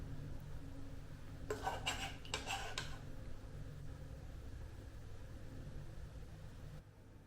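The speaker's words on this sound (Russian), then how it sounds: "Нарезаю запеканку на кусочки и укладываю на тарелку." A few light clinks of utensil on dish, short and close, as a rice and cottage cheese casserole is cut into pieces and plated, then a steady low background hum with no talking.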